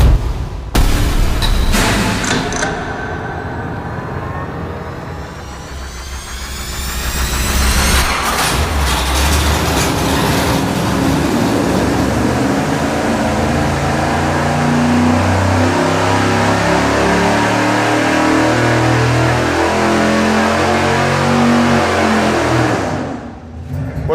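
A 598-cubic-inch engine on a dyno roars through a long, loud pull. It revs up early, dips briefly, then holds a heavy, steady drone for about twenty seconds before cutting off near the end.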